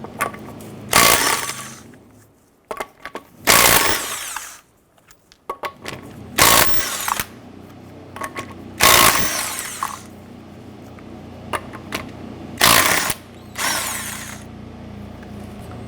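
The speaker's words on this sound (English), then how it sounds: "Let's remove the lug nuts." Bursts of an impact wrench spinning off the 19mm lug nuts on a 2006-2013 Chevrolet Impala wheel, several loud whirring runs of one to two seconds each separated by short pauses and workshop clatter.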